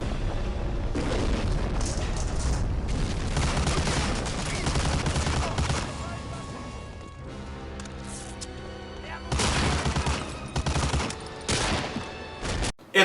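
Rapid bursts of gunfire and booming blasts from enemy soldiers in the World War II shooter game Medal of Honor Allied Assault, loud and dense at first, then thinning before more volleys erupt near the end.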